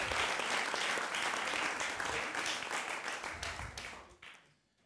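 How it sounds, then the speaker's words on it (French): An audience at a Fête de la Musique stage show gives dense, sustained applause that holds steady for several seconds, then tapers and fades out. "On peut l'applaudir bien fort également, s'il vous plaît."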